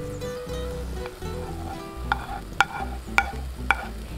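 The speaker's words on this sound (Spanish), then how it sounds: "Y le damos muchas vueltitas como para que se sofría bien los pimientos y la cebolla." Red and yellow peppers with onion sizzle steadily in a frying pan while a utensil stirs them, with several sharp scraping clicks against the pan toward the end.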